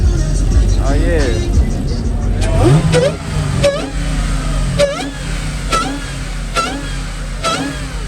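A car engine idling and revving at a large Midwest car show, with repeated throttle blips rising and falling over a crowded outdoor background and people talking nearby.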